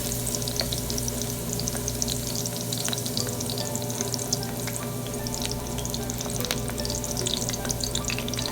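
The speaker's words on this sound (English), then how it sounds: "Once you add your crushed garlic, just go ahead and give it a stir for a few seconds" Crushed garlic sizzles steadily in a pot as it is stirred, part of cooking Haitian white rice; an even, close frying hiss with faint scraping, and no voices.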